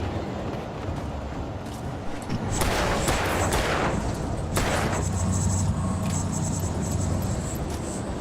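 Gunfire in the video game Alan Wake: several sharp, loud shots in a cluster, then another burst, over a constant rumbling in-game background with no talking.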